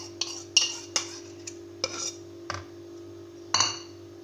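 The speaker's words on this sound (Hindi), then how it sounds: "अब मैंने इसमें दही डाल लेनी है" Yogurt going into a spiced biryani marinade with turmeric and green cardamom, a series of sharp spoon-on-bowl clinks and scrapes spaced irregularly, close and fairly loud over a steady background hum.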